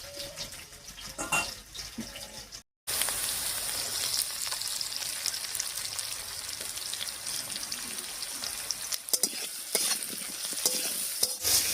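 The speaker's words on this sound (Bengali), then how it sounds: "হলুদ লবণটা আলুর সঙ্গে খুব সুন্দর করে মিশিয়ে নিয়েছি" Potato pieces with salt and turmeric stirred in a hot frying pan over tempering spices, a steady loud sizzle with scraping stirs running throughout after a brief break.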